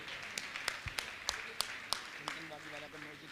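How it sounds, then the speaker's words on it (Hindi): An audience claps at a religious discourse gathering for a Jain monk. The claps come as a faint, steady rhythm of single, well-spaced hits, with a voice and tonal sounds running underneath. "ताली बजाइए"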